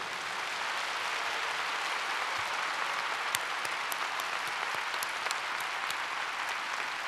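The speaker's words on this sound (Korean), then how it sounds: "승리하신 천진 참 부모님께 우리 모두 감사의 박수를 올려드리겠습니다." Sustained applause from a large audience at a Korean religious ceremony: dense, steady clapping for about seven seconds with a few sharper individual claps standing out, with no speech.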